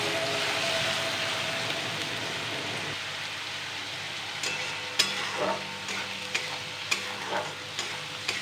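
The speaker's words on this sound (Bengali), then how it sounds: "এবার পেঁয়াজ রসুন পেস্টটিকে একটু ভালো করে কষিয়ে নেবো যাতে রসুন পেঁয়াজের গন্ধটা চলে যায়" Onion-garlic paste fries with a steady broad sizzle in a pan for mutton curry, with a spoon scraping and stirring in several soft irregular strokes toward the end; no talking.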